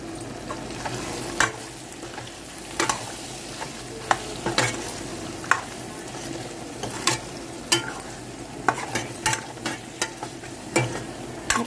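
A spoon stirs a Telugu-style bottle gourd and raw mango curry in a hot pan, sizzling steadily while frequent scraping clicks and clatters repeat throughout, close and clear with no one speaking.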